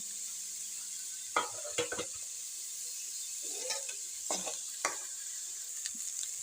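Onions sizzle steadily in a hot pan while making semiya upma, with a few sharp scrapes and clinks of a spoon stirring them. No one speaks.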